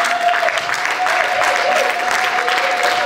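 A church congregation applauds God, a sustained, even wash of clapping and crowd noise from many hands filling the room throughout.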